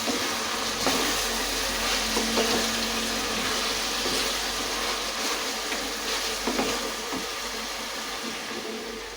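Dried shrimp, cucumber and potato curry fries in a pan with a steady, close hiss and sizzle, with occasional small pops and stirring sounds throughout.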